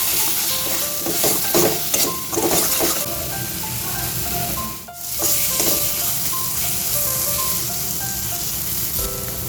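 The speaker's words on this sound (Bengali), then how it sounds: "মশলাটা এবার ভালো করে কষিয়ে নেব।" Spice paste with a spoonful of yogurt sizzles steadily in hot oil while being stirred for a Bengali rohu fish kalia, a continuous close frying hiss broken by scraping stirs.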